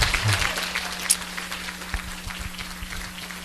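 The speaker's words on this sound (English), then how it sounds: "let's give Shirley Ginwright a round of applause" Audience at an award ceremony applauding, a steady burst of clapping that starts strong and tapers slightly over a few seconds, with a brief voice mixed in.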